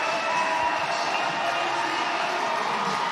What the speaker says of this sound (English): Just letting that crowd's noise go for everybody, just cheering her on